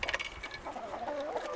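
Several hens clucking softly outdoors on a morning as they wait to be fed, short overlapping calls close to the microphone with no talk over them.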